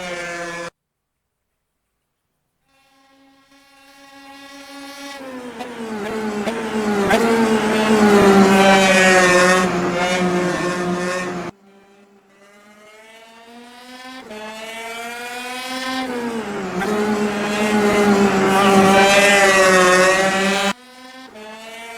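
A Super Kart engine in rFactor 2 racing at Guapore screams loudly, rising in pitch through two long acceleration runs with gear-change drops and a brief quiet gap between, no talk.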